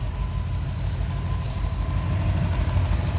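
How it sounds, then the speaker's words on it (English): A roller cam VT 5 litre V8 with a pod filter, extractors and a new exhaust idles smoothly and steadily at close range, a deep continuous rumble with no talking over it. "So this is the roller cam VT 5 litre"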